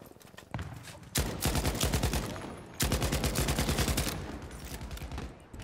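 Rapid automatic gunfire from Battlefield V, loud and close, in two long sustained bursts separated by a short gap, with a few lighter shots before them.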